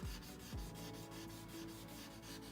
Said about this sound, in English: we're going to use this blending stump, and it just smooths out